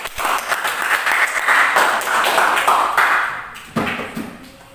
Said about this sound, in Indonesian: kita beri tepuk tangan yang lebih dahulu untuk Ajam.